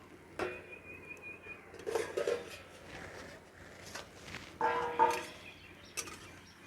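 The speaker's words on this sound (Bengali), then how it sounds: "এখন ঢাকনাটা খুলে দেখে নেব আমটা সিদ্ধ হয়েছে কিনা" Metal pot lid lifted off a pan of boiling raw mango for chutney, with a few sharp clinks and clatters of metal separated by quiet gaps, close and moderately loud.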